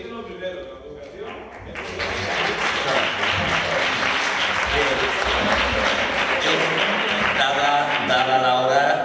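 Audience applause at a round-table discussion of mayors, a dense sustained clapping that swells after a brief lead-in and fills the rest of the stretch, loud and close with no talk over it.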